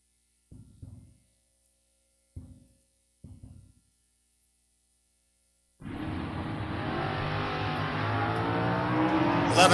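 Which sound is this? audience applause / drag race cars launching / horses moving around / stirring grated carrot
drag race cars launching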